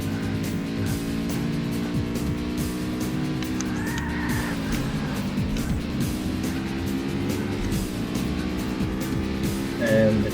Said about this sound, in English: And the coupe just overtook me from the outside.